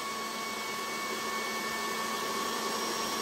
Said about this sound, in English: you're gonna start the fan. This is where it gets loud, and you're going to let the fan run for a couple of seconds